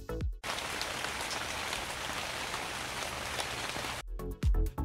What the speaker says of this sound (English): some dramatic music, and the sound of rainfall.